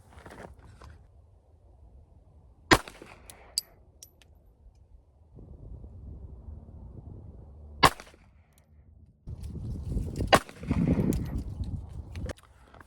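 A Beretta Tomcat .32 ACP pistol fires three Underwood rounds, each a sharp, loud crack spaced several seconds apart, with quieter outdoor background noise between the shots.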